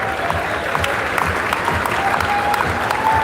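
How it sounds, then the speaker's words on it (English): A crowd at a company awards event gives the award winners loud, sustained applause, a thick wash of clapping with scattered sharper claps and faint voices underneath. "Give a big round of applause for them."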